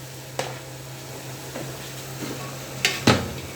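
Carrots stirred in a pan for lumpia sariwa, giving a few scattered utensil scrapes and clinks against the metal over a faint kitchen hum, with two sharper knocks near the end.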